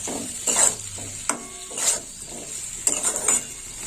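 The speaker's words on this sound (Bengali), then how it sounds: "এইভাবে একটু নাড়িয়ে চড়িয়ে নিতে হবে" Gourd curry with fried rice and potatoes is stirred in a pan, giving several scraping strokes of the spatula against metal over a faint continuous sizzle, close and fairly loud.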